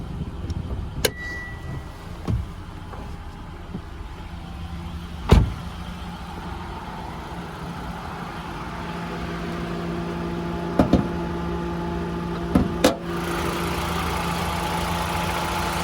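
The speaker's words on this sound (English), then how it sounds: "we'll have a look underneath the bonnet while the engine's still running" A 2019 Mitsubishi ASX LS idles with the bonnet open, a steady low, even hum, with occasional sharp clicks and knocks over the quiet running engine.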